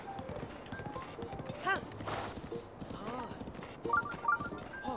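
Horse hooves clop in Zelda: Breath of the Wild, a loose walking rhythm under game sounds and a voice, with a brief whinny-like cry midway.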